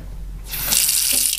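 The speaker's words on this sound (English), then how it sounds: "there's the water going on." Water from a sink tap, turned on with a foot pedal, starts as a sudden loud hiss and then pours steadily and close by, with nobody talking.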